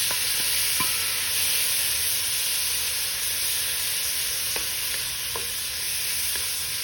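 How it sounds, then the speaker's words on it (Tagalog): Bacon sizzles and fries steadily in a pan of its own oil, a dense continuous crackle with occasional sharper pops and faint stirring, close by and with no talking. "so we're gonna cook the bacon first"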